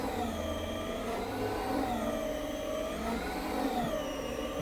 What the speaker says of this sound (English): And now for the pre-agitation with the Cibo Duo CRB machine.